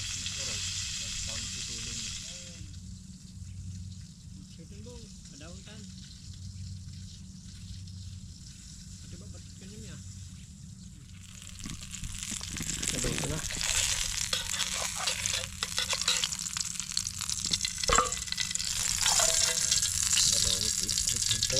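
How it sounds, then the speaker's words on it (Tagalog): Bulig fish fries in hot cooking oil with a steady sizzle and crackle that grows louder and busier partway through, while people talk now and then. "Yun, piniritong bulig. Pinirito sa mantika."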